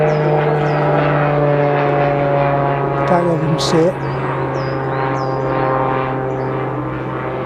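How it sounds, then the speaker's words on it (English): A propeller plane passes overhead above a residential area near Banstead, a steady droning hum that holds throughout while a person talks over it. "excuse that plane going over."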